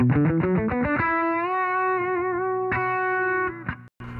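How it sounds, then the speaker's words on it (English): An electric guitar runs through a high-gain overdrive pedal: a quick run of distorted notes settles into a long sustained chord, then a few more short chords ring before a brief cutoff. The sound is loud and close, with no voices. "it's an awesome pedal, and it's got some really cool, just overdriven, high distorted tones."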